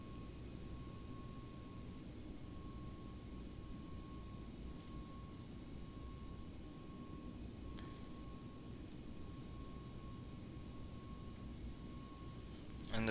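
A ToLiss A320neo airliner climbs in the X-Plane 11 flight simulator with a steady, smooth engine drone and a thin constant tone. The sound holds at an even, moderate level and has a few faint clicks.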